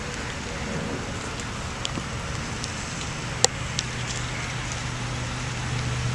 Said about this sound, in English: it's not raining as hard as it was when I came out here